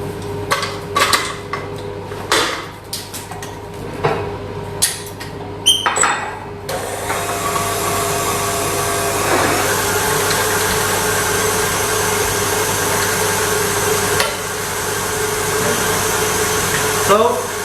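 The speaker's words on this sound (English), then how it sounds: "here I'm using a whisk because I want to incorporate air inside the chantilly" Whisk beating chantilly cream in a bowl to whip in air, a continuous brisk scraping that runs steadily after a few clinks and knocks of pastry utensils at the start.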